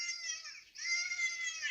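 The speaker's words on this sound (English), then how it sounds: "This stock sound effect is a dolphin." Stock dolphin sound effect made from a kookaburra call pitched up: a continuous high chattering squeal with dense harmonics, one short break midway, then resuming steadily, alone and fairly loud.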